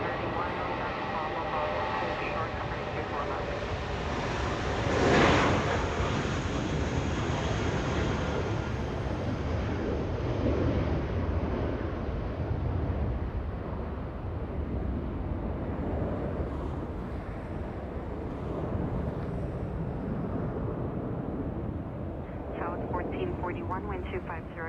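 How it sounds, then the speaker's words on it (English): Viva Aerobus Airbus A320, six years old, taking off from Los Angeles International Airport bound for Guadalajara: a steady, broad jet engine roar that holds throughout, with a voice talking over it. "Viva Aerobus getting a move on, flying to Guadalajara. It's an A320."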